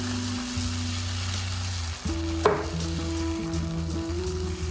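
Moong-oats pancake batter cooks in avocado oil over high heat, producing a soft steady sizzle and one short clatter midway, with no voices.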